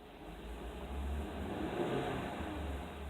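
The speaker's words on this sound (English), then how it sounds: "let's see if I rev it" A Ford Crown Victoria's engine idles and is revved, with a low rumble rising in a couple of modest swells from inside the car, fairly quiet and with no talk.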